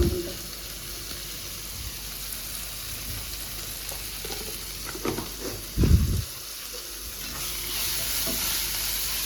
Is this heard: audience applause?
no